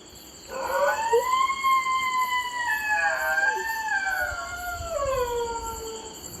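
A long, wavering dog howl rises and falls continuously for several seconds, loud and close, over faint background noise.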